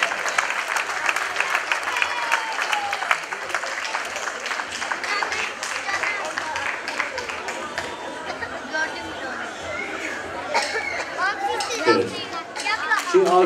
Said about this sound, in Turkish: Alkışlar tekrar gelsin